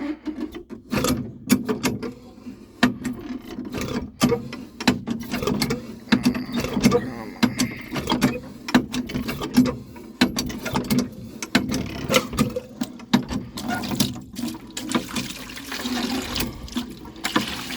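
Water drawn by hand from a well during a power outage, with repeated clanking, ratcheting mechanism strokes and trickling, splashing water, while a person talks intermittently nearby.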